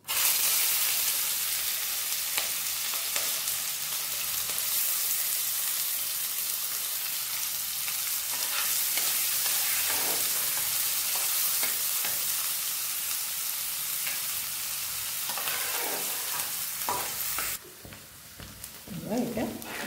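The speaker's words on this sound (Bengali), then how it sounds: "পেঁয়াজটা একটু ভালো করে ভেজে নিয়েছি" Onions sizzle and fry steadily in a pan of hot oil with cumin for Bengali doka dalna, with occasional stirring scrapes, loud and continuous before quieting near the end.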